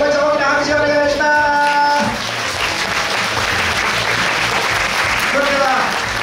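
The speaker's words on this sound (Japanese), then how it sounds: "本日パフォーマンスしてくれた9チームの代表の皆さん、気持ちを大きな拍手をお願いします" Large audience applauding the nine competing teams at a university idol-group contest, a broad loud wash of clapping; a voice with tonal, sung-like vowels sounds over the first two seconds, with brief vocal tones again near the end.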